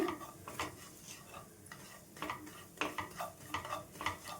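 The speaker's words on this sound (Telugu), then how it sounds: "ఇదే నేతలో ఈ రవ్వను వేయించుకుందాం ఈ పావు కప్పు వరకు రవ్వను తీసుకున్నాను కదండి ఇదైతే వేయించుకుందాం వేయించుకోవాలండి మంచిగా కలుపుకుంటూ వేయించుకోవాలి" Semolina is stirred and roasted in ghee in a pan, with soft scraping strokes of a spoon and a faint sizzle coming in irregular bursts, quiet and close, with no talking.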